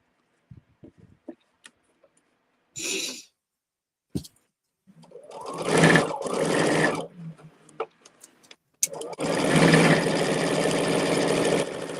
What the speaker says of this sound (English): Now what I can do is I can chain sew.